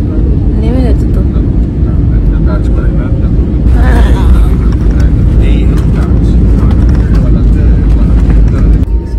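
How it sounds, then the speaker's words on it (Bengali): An airliner taxiing along a runway just after landing, its steady engine rumble and hum filling the scene throughout, with people talking over it. "নেমে গেছে একদম ফ্লাইট, জাস্ট রানওয়ে দিয়ে চলেও এসেছে অনেকটা।"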